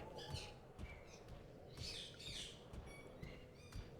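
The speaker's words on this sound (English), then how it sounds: "the birds are going off now" Birds squawk and chirp in Monster Hunter Stories 2, a series of sharp, bright calls over a faint background bed, some clustered together, the whole scene quiet and low in level.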